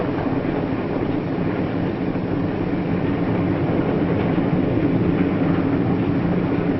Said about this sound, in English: While the train speeds into the dusk